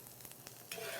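Chopped onions stirred in a hot pan, a soft continuous sizzle with light scraping taps that swells into a brighter hiss near the end, fairly faint and alone.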